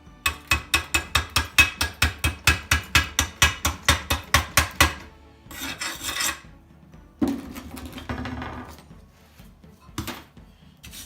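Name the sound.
chipping slag off a stick weld bead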